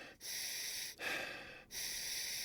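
A person takes sharp, deep breaths through the nose and mouth, three forceful breathy gusts close to the microphone with short pauses between them.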